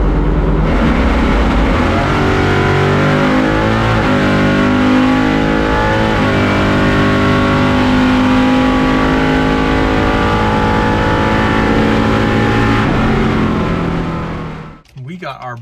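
A 700-horsepower Chevrolet C10 pickup makes a drag racing pass, its engine roaring loud and close at sustained high revs with shifting harmonic pitch throughout, then cutting away abruptly near the end.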